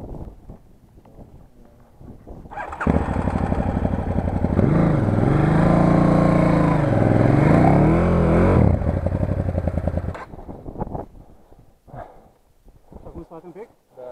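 An enduro motorcycle on slippery grass in the Baiului hills revs hard in a loud, sustained burst that rises and falls for several seconds. Voices talk before and after it.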